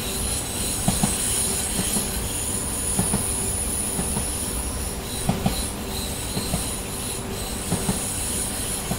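A train in Train Simulator 2019 on the Wakayama-Sakurai Line slows down with a steady rumble of rolling wheels and rail clatter, broken by occasional short squeals and clicks, close and continuous with no talking.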